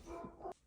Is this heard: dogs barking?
yes